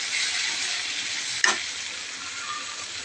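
Turmeric and garam masala being stirred in a hot frying pan, a steady close hiss of sizzling oil with a single sharp scrape of the spoon near the middle.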